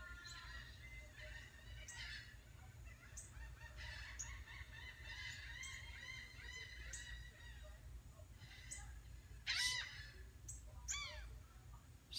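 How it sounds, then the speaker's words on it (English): Gull calls ring out over a calm sunset shoreline in the Florida Keys, a series of moderately near, rising cries with a louder burst near the end, set against a steady low ambient rumble. "The beauty of the gull singing."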